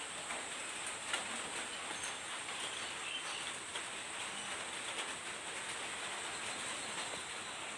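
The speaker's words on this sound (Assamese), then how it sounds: "কিনকিনাই বৰষুণ দি আছে এতিয়া বৰ্তমান।" Light drizzle falls outdoors around five in the morning, a faint, steady patter with scattered soft drips and distant hiss, no voices.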